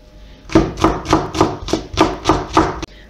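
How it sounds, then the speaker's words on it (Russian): A knife shreds napa cabbage leaves on a cutting board for a salad, about eight firm, rhythmic chops landing close and loud in quick succession. "Капусту нам нужно разобрать на листочки и мелко нашинковать."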